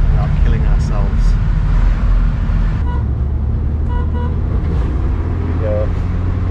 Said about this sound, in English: So we're trying to overtake this lorry.